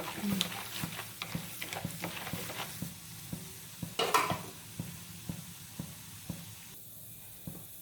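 Chickpeas, chana dal and urad dal roast in hot oil with a soft sizzle and a steady rhythm of spatula scrapes and taps, one brief louder clatter partway through.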